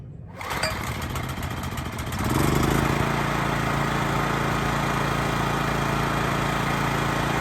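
A Honda EX1000 portable generator engine catches after a brief start and settles into a steady, close, loud running drone that carries on unbroken, with no talking.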